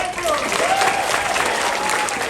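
Audience at an Anthrocon 2024 fur convention panel breaks into a brief, full round of applause, steady and close, with a few voices underneath.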